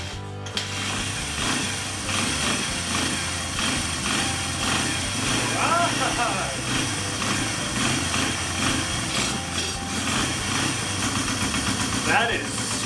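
A cheap project dirt bike engine idles after being choked, a steady close putter with mechanical clatter, while people talk over it.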